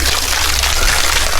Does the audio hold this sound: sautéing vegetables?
no